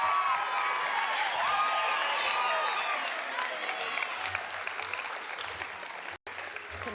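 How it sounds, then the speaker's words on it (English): An audience at a school awards ceremony claps steadily for the choir, with sustained applause and a murmur of voices underneath. "applause for choir."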